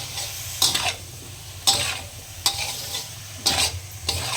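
Turmeric, coriander and tomato sizzling in a pan for a potato and radish-leaf curry, with four or five sharp scraping stirs of a spoon at regular intervals over a constant close frying hiss.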